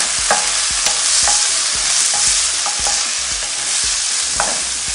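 Chopped onion sizzles steadily in hot oil with a little cumin while a spoon scrapes and taps against the pan in an irregular rhythm, close and fairly loud, with no talking.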